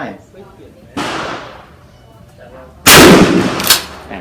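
A Hatsan 5-round shotgun fires outdoors with a loud, sharp blast and a trailing echo, preceded by a fainter, shorter report; someone talks between the shots.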